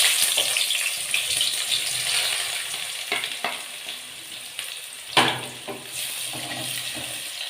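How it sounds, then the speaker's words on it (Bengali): Chopped onions with spices fry in a pan for mutton with kohlrabi, giving a loud continuous close sizzle with occasional stirring scrapes and clatters, and no one talking. "পেঁয়াজগুলোকে আমি ভালোভাবে ভেজে নেব"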